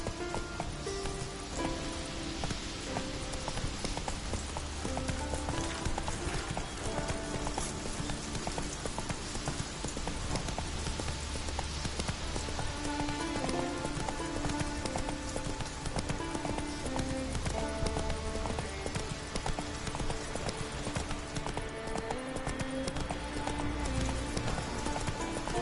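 The horse Roach trotting in The Witcher 3, with steady rhythmic clip-clop hooves throughout over a continuous bed of rain and ambient game music.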